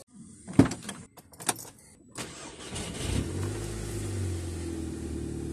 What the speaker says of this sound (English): Turn the car on and let's see if we get fuel.